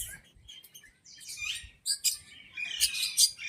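Lovebirds and finches chirp inside a zoo aviary, a string of short, bright tweets and calls coming in scattered bursts, fairly close and moderately loud, with no voices.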